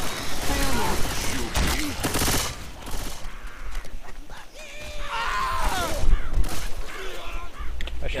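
Rapid bursts of gunfire from the video game Left 4 Dead 2 keep going almost without a break, loud and close, mixed with in-game noise and excited voices talking over it.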